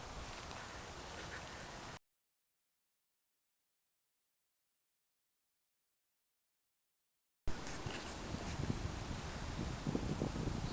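Gusty wind blowing outdoors after a December wind storm, buffeting the microphone with a steady broadband rush that cuts out for several seconds midway, then returns loud and ragged.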